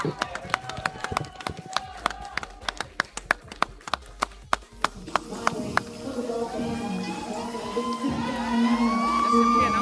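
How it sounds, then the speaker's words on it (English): A crowd at a MOBA Legends 5v5 LAN grand finals claps in a quick, even rhythm that gives way to swelling cheers and whoops, with an announcer talking over it. "Keep those claps going on while they're walking."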